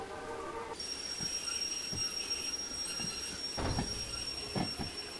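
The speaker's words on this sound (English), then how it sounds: "you want the squealing. The squealing means you're actually effectively braking the train" A sustained high-pitched squeal of train wheels braking in a train simulator game rings steadily over low rumbling and scattered thuds, fairly quiet overall.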